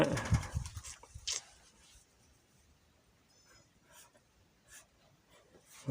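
A pen scratches across paper in a few short, faint strokes after a louder burst of handling noise, then quiet scribbling continues intermittently.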